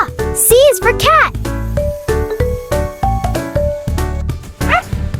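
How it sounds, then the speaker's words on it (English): A dog barks and yips several times in quick succession near the start, loud and close, then bright musical tones and voices carry on in a cheerful children's learning song. "D is for dog."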